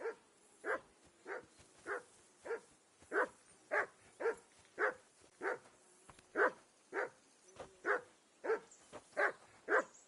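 A dog in the video game Kingdom Come: Deliverance 2 barks about fifteen times in a steady, fairly even rhythm, fairly quiet and with no talk over it.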